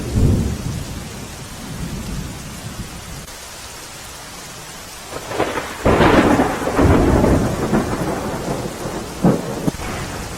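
Heavy monsoon downpour in Gujarat drenching surfaces, with a steady roar of rain and rumbling thunder that swells into louder cracks and rolls partway through, no voices present.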